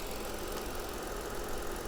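A car engine idles steadily at a salvage auction yard, a continuous low rumble with faint knocking texture and no talk over it.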